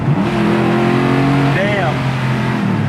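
A 1974 Camaro running nitrous pulls hard in fourth gear, a loud continuous engine roar close by with a rising note midway, while someone talks over it.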